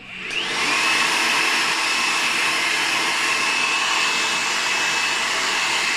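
A hair dryer blasts continuously at close range, a steady loud whoosh with a faint high whine, no talking.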